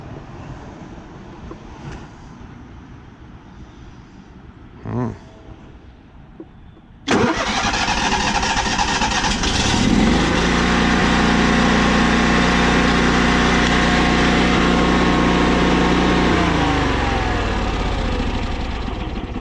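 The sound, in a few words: generator engine starting and idling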